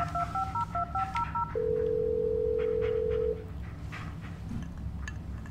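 Phone tones in the Blair Witch video game: a short run of repeated dialing beeps followed by a long steady tone, heard alone over a low rumbling ambient background.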